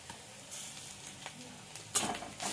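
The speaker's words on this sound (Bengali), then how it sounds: "রসুনটা একটু তেলে ভাজা ভাজা করে নেবো, যতক্ষণ না কাঁচা গন্ধটা যায়" Garlic sizzling gently in hot mustard oil in a pan, a low steady crackle with a few sharper stirring scrapes near the end, close and quiet.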